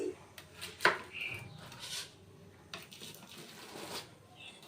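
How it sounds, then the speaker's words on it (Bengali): A baked cake comes out of its tin onto a plate, with light clinks and tapping of metal tin against crockery and soft handling noises, close by in a quiet kitchen, with a little speech. "একটা প্লেট নিয়েছি, তার উপরে নিয়ে নিয়েছি কেক, হাত দিলেই উঠে আসছে কেকটি।"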